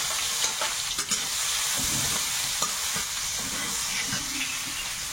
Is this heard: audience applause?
no